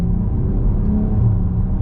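A BMW M440i Gran Coupe with a B58 engine gives a deep, steady rumble heard from inside the car, loud and continuous for a brief moment with no talk over it.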